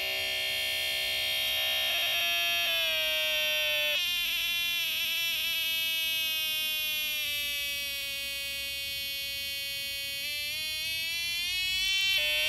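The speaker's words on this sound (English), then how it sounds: "now the buzzer will have a higher pitch" A steady high-pitched electronic buzzer drones continuously, its tone stepping and shifting slightly in pitch, loud and close with no talking.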